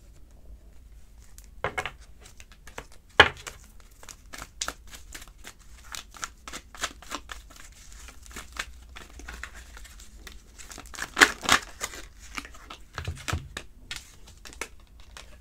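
Tarot cards handled and shuffled during a reading, with scattered soft crinkles, flicks and snapping card sounds at irregular intervals against a quiet room, and no talking.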